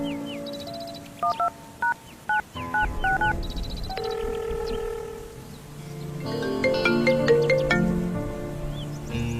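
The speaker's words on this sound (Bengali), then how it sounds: "ওকে ফোন লাগা" A phone is dialled with a quick run of keypad tones, several short beeps in bursts, followed by ringing and electronic tones, fairly close and clear.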